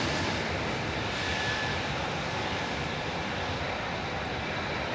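An Etihad Airbus A380 jet at London Heathrow Airport gives a steady, broad engine roar that holds at an even level throughout, with no voices.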